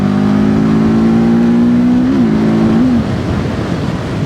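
A TVS Apache RTR 310 motorcycle engine hums loud and close while being ridden, a steady droning tone that rises slightly, wavers, then drops away into a rougher, lower rumble near the end.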